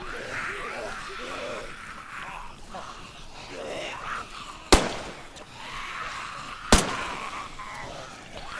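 Two sharp gunshots fired at a zombie in DayZ, each a loud single crack about two seconds apart, over a faint background bed of game ambience.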